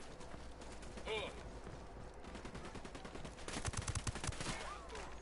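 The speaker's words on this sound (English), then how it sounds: "I'm gonna have my team open fire and shoot back" Squad gunfire in the video game Ghost Recon Wildlands: a quick run of sharp shots near the middle, set against steady in-game ambience and low rumble.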